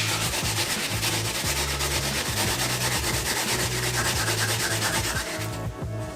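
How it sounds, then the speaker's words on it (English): Peeled yam grated by hand for a Jamaican Christmas sweet potato pudding, a steady, close rasping scrape running continuously and fairly loud with no talking. "you just want to remove the skin from the yam and come over here with it and just grate it"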